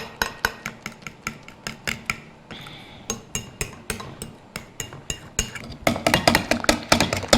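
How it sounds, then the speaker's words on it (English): A spoon stirring ginger into a chicken pineapple curry in a pot, close and fairly loud, with a steady run of clinking scrapes against the pan that speeds up toward the end, no voices. "Just mix that in well so all our ginger disperses."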